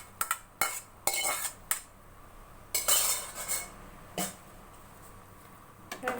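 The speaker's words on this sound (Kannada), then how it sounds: "ಇವಾಗ ನೋಡಿ ಹಾಗಲಕಾಯಿ ಹಾಕೋತಾ ಇದ್ದೀನಿ" Bitter gourd pieces are tipped into a pan of masala and stirred for a curry, giving a series of sharp spoon-on-pan clinks and scrapes in irregular bursts, close and fairly quiet.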